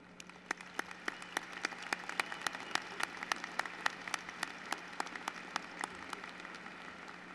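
Applause at an afternoon spring commencement ceremony for the Chancellor's Ambassadors: a quiet, fairly distant crowd claps in a steady patter of many distinct hand claps.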